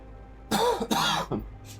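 A few quick, close throaty coughs or throat-clearing bursts in a quiet room, three short bursts over about a second.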